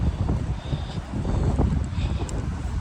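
Wind gusting outdoors beside St. Paul's Cathedral in London, a steady broadband rush with rumbling low buffeting against the microphone, continuous for the whole stretch with no clear voices.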